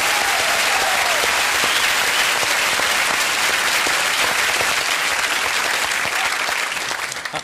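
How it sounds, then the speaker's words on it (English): Studio audience at a British television show breaks into loud, dense applause, many hands clapping continuously and close, holding steady before easing slightly at the end. "Let's give them a round of applause."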